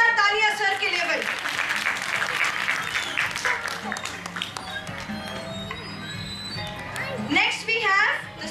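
An audience at a KidZee Ludhiana preschool event claps loudly and steadily for several seconds, with voices calling out at the start and again near the end.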